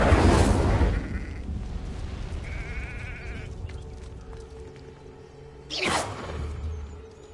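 Incendio fire spell cast in the Hogwarts Legacy video game: a loud whooshing burst opens the clip, and a second shorter flare of fiery rush comes near the end over quieter in-game ambience.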